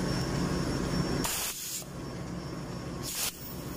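Compressed air hisses loudly and steadily into the puncture valve of a ship's fuel pump through an air nipple. Two sharp bursts of harsher, brighter spray cut through the hiss, each lasting a fraction of a second, with no talking.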